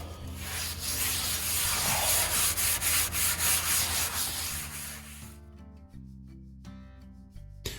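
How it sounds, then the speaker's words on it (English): Scouring pad scrubbing a new Blackstone griddle with soap, producing steady close rhythmic rubbing strokes that stop after about five seconds, leaving quieter background. "taking that scouring pad and getting that soap in there really good in all the corners, all the crevices"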